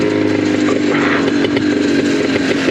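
A Yamaha Blaster ATV engine drones loud and steady while riding, a continuous buzzing two-stroke tone close to the microphone with no talking.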